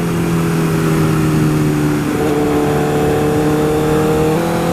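A 2012 Honda CBR1000RR sport motorcycle engine revs hard under way, a loud, steady mechanical drone whose pitch steps down abruptly twice during downshifts.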